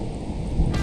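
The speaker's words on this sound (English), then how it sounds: "maybe you hear some thunder there" Brief low rumble of thunder rolling over hills near Hot Springs, North Carolina, above the French Broad River on a July day, a steady distant roar that swells slightly near the end.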